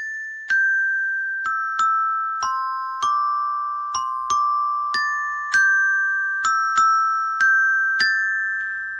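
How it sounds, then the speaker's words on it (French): Children strike a carillon, sounding a slow melody of single ringing metallic notes, each struck cleanly and left to decay, with no voices. "À vous, les enfants, avec le carillon."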